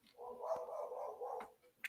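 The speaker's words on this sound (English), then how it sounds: "Goddamn dog." A dog barks faintly at a distance, one drawn-out bark or howl holding for over a second, then a brief yip, quiet and with no talk over it.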